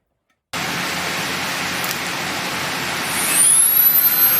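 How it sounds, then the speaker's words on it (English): A Dremel rotary tool starts abruptly and runs with a steady loud whirring drone while carving wood, rising to a higher-pitched whine near the end as it speeds up or bites into the wood. "Start up the Dremel."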